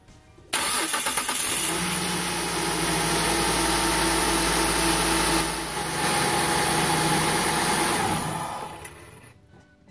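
A 2004 Kia Sedona engine, just refitted with a new idler and tensioner pulley, cranks and catches, then settles into a steady close idle for several seconds before shutting off.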